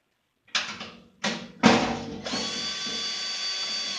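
Skid plate bolts on a 2012 Toyota Tundra with the 4.6 L engine come loose under a power tool: two short whirring bursts, then a longer high whine that runs steadily to the end, close and clear.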